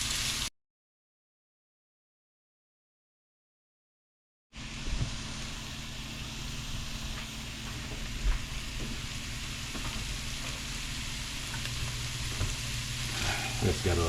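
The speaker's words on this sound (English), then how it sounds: "now I put my garlic in there. And we let this all go for another minute" Garlic sizzles and fries in a pan alongside a pork chop and bok choy, a steady crackling hiss that starts abruptly after a brief silence and continues up close.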